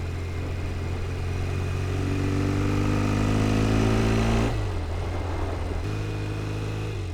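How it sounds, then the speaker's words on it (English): A Norton Commando parallel-twin motorcycle engine runs steadily nearby with a throbbing, even beat, its pitch shifting briefly as the revs drop and settle. "listen to that music. That parallel twin Norton is just an orchestra."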